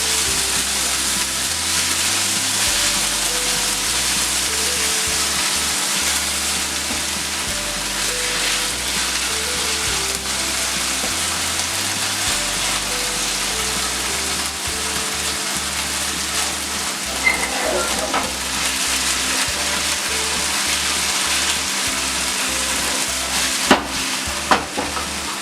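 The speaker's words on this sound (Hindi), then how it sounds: "अब इसे अच्छी तरह से मिक्स कर लेते हैं।" Paneer roll filling stirred and tossed in a hot pan with red chili sauce, black pepper and salt, a steady loud sizzle with scraping stir strokes throughout and a couple of sharp utensil clicks near the end.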